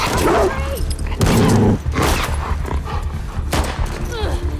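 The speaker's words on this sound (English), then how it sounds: "The WLF, they have trained dogs that will sniff and attack you." Dogs trained by the WLF bark and yip amid bursts of gunfire in The Last of Us Part II, with loud barks repeating and sharp shots in between, all dense and close.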